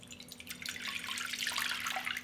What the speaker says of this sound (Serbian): Sipat ću u činiju 200 ml mlake vode.